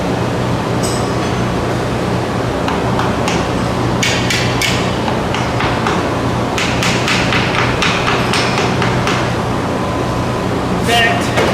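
A driveshaft end for a Pontiac G8 carrier bearing job is struck with a hammer while resting on a block of wood, making repeated sharp knocks over a loud steady background hum.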